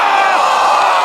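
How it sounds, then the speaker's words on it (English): A pro wrestling crowd roars loudly at a Channing Thomas versus Dezmond Cole match in a short, dense burst of massed cheering and yelling. "Listen to this crowd."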